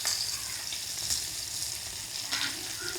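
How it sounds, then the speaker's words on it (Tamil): Fish fries in bubbling, churning oil on a dosa pan, a steady close sizzle running without pause, with small crackles and pops rising out of it now and then. "இங்கே பாருங்க, அந்த கொந்தளிக்குதுங்க எண்ணெய்."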